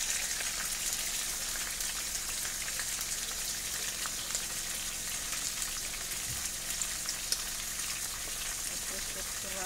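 Fish sizzles in hot oil in a pan, a steady crackling hiss with scattered pops throughout, close and fairly quiet, with faint voices at times.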